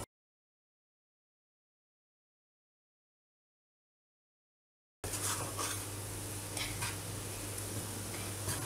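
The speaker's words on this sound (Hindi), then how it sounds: "इसको बिल्कुल हल्का सा थोड़े धीमी आंच पर ही भूनना है ताकि नीचे नहीं लगेगा।" Gram flour is being roasted and stirred in a pan on low heat for besan laddoo, giving a soft, even scraping sizzle. It starts after about five seconds of silence and has no talk over it.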